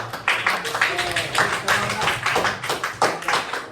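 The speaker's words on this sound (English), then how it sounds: "Give him a golf clap." Light, polite golf clapping from a small group in a physics classroom, soft scattered claps over several seconds with a faint voice murmuring underneath.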